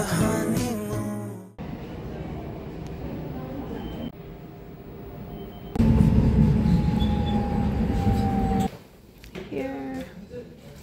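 Subway trains rumble through stations on a Seoul-area transfer route, with loud rolling noise, brief wheel squeal and a surge of heavier roar midway, as voices and announcements sound over the clatter.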